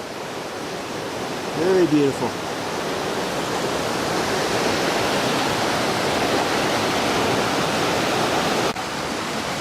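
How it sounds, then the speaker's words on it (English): A river rushing through the jungle of Cocora Valley, Colombia, a loud, steady roar of flowing water that fills the whole stretch, with a brief spoken remark early on. "This is the river that runs through the area, through the jungle."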